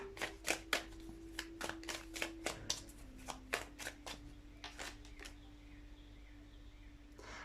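Tarot cards are shuffled up close in a quick run of crisp riffling snaps, about a dozen sharp bursts that thin out toward the end over a faint steady hum.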